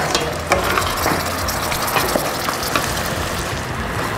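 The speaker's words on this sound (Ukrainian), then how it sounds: "Перемішаємо." Mushrooms sizzling in cream sauce in a pan while a utensil stirs and scrapes, giving soft irregular clicks and knocks over a steady frying hiss.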